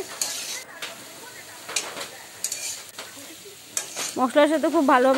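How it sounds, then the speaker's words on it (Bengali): Potatoes are stirred with spices in a hot frying pan for aloo kachuri filling, giving close scraping and sizzling with clinks of the spoon against the pan and a louder bubbling fry toward the end. "এখন নেড়ে চেড়ে আলুটা মশলার সাথে খুব ভালোভাবে মিশিয়ে নিয়ে"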